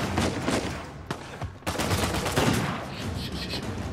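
Gunfire in the Uncharted 4 video game, dense bursts of rapid shots and blasts forming a continuous loud barrage with brief dips.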